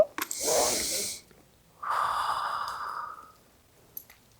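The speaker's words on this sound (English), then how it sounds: "Breathe in deep. One more time." Two long, deep breaths up close, a strong airy inhale then a slower, softer exhale, with a quiet gap between and no talking.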